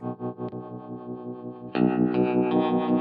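Electric guitar run through a JHS 3-Series Octave Reverb pedal in harmonic tremolo mode, sustained chords wobbling with a seasick, whirly pulse, growing louder and brighter partway through with fresh strums, no talking.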